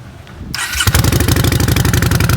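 A Yamaha Bolt motorcycle with an aftermarket exhaust cranks and fires up, settling into a loud, throbbing idle with a steady rapid pulse, close by.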